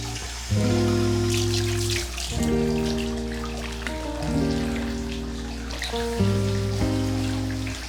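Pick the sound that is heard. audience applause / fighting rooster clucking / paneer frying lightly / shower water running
shower water running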